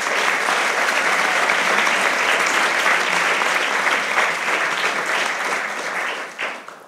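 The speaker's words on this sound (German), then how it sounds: "Applaus für dich." Sustained audience applause at a book premiere debate event, dense and even clapping from a large crowd that fades slightly at the end.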